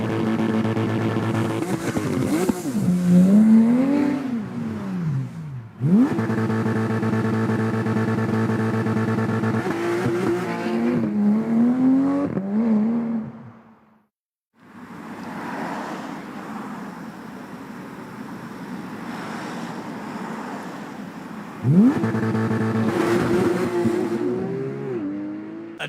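A Nissan GTR launches hard from a standstill, its engine roaring loud and near through long rising runs of revs with gear changes, then a brief pause before it revs again.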